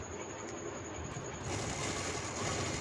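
A sewing machine runs steadily as it double-stitches a seam on a flared frock, a continuous close mechanical whir that grows slightly louder and busier halfway through.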